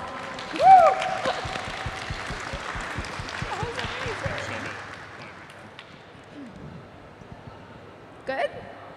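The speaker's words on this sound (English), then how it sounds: "Round of applause for gnomes." Brief clapping and a cheer from a small crowd at a live cosplay competition panel at an anime convention, mixed with voices and fading after a few seconds.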